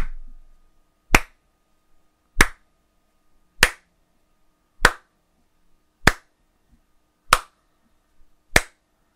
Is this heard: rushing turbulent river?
no